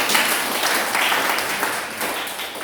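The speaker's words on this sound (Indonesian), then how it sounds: "Oke, tepuk tangan." Students in a high school classroom applaud after a physics lesson on gas pressure, a dense, steady burst of many hands clapping close by for a few seconds.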